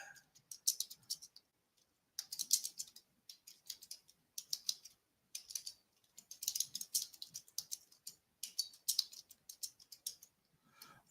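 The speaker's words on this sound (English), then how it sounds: "I'm just typing while I talk." Rapid clicking of computer keys comes in bursts separated by short pauses, close and fairly quiet, with no voices.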